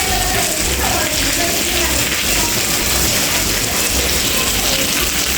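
Heavy monsoon rain pours down outside a house, a dense, loud, continuous wash of noise with a low rumble beneath it and no break from start to finish.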